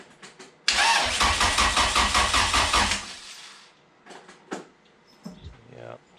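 A rebuilt Honda H22A engine with a balance shaft delete and new pistons cranks loudly in a rapid pulsing rhythm for about two seconds, then catches and fades, followed by scattered clicks and faint murmurs.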